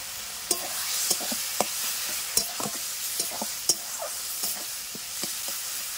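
Spice paste for a jackfruit curry being sautéed in a pan, a soft continuous sizzle punctuated by a dozen or so sharp spatula scrapes and knocks at irregular intervals, close by, no voices.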